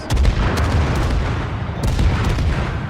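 Naval gunfire in World of Warships, with a Mahan destroyer in battle: repeated booming shots and dull impacts over a dense, rumbling battle ambience at close range.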